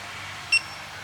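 A digital torque wrench gives a single short, high electronic beep while zeroing, heard alone over quiet background noise.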